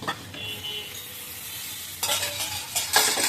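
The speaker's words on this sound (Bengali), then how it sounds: "আর এবার আমি ডিমগুলো ছেড়ে দিব" Eggs frying with onion and green chilli in a pan give a steady close sizzle under scraping stirs, swelling into brighter, louder bursts near the end.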